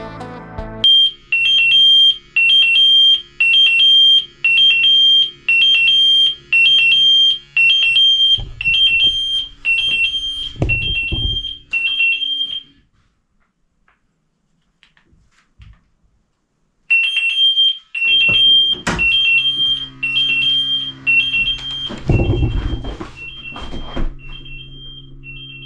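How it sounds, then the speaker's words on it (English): A 95-decibel alarm beeper sounds at full volume during a sound check of a budget-built isolation booth in Switzerland, giving rapid repeated loud beeps, then a pause, then more beeping with some handling noise and thumps. "The volume of the beeper is 95 decibels up"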